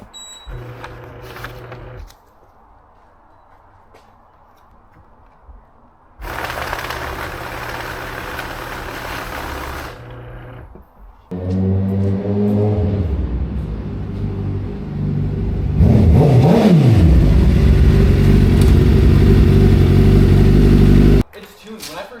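A Suzuki GSX-R motorcycle engine idles with a low rumble that drops quiet at times, then picks up with rising revs and a sharp climb toward the end, loud and close.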